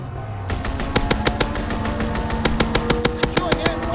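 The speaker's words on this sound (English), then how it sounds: "Call for a strafing run. Strafing run inbound." Rapid machine-gun fire from a strafing run in Call of Duty: WWII, a loud steady string of evenly spaced shots over a droning aircraft engine, with the bursts growing punchier toward the end.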